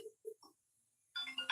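A mobile phone ringtone plays a few short, separate chiming notes, then breaks into a brighter, busier burst of melody near the end, close and moderately loud.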